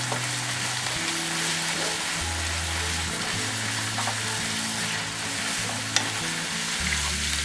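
Ground beef seasoned with Montreal steak seasoning sizzles steadily in a pan, with a near, continuous frying hiss and soft stirring scrapes, and no voices.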